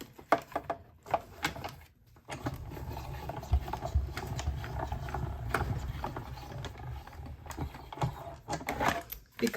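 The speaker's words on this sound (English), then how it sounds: "use our die cutting machine again." A die cutting machine runs a stamped paper cling-stamp image through its rollers, giving a steady mechanical grinding, ratcheting churn with a few sharp clicks, close and fairly quiet with no talk.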